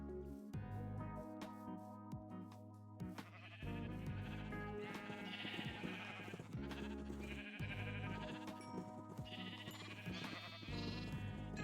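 Sheep bleat repeatedly in the video game Minecraft, several clear wavering calls in succession over soft background music, fairly close and distinct.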